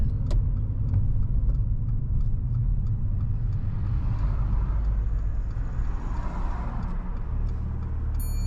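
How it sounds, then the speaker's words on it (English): A car pulls over and comes to a stop on the left-hand side of a road, heard from inside as a steady low engine and road rumble that gradually settles, with no talking. "You can pull over and park up on the left hand side somewhere safe."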